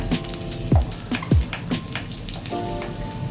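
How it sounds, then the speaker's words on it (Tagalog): Garlic sizzles steadily in hot oil, with a few sharp scrapes and knocks as it is stirred in the pan. "once your oil is nice and hot, let us now add our garlic first. Make sure to stir it"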